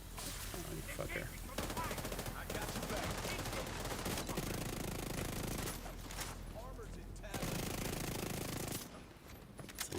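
Blind-firing weapon in the game The Division 2, sustained rapid automatic fire rattling almost continuously with brief pauses, dense and loud, with occasional talk under the shooting.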